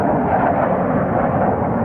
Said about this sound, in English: there's a fighter jet making maneuvers over us as we shoot